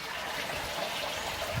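A garden hose runs water into a koi pond to top it up, giving a steady, soft trickling and splashing wash that stays even throughout, close by with no talking.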